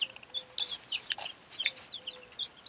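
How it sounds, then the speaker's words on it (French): Roosters and hens in a henhouse give soft, scattered clucks and short chirpy calls, quiet and irregular, with no one talking. "Il y a des coqs, il y a des poules"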